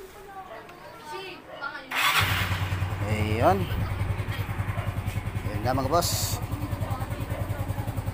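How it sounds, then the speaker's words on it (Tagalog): A Yamaha Mio Sporty scooter engine cranks and starts, then settles into a steady close idle; someone talks over it. "Try natin na i-start yung makina"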